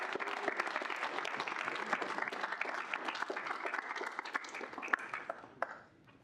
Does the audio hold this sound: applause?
yes